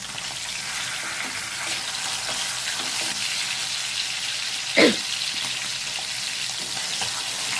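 Coneem fish fries steadily in a pan, a constant broad sizzle filling the whole stretch, with one brief louder clatter midway as the fish is turned over; no voices.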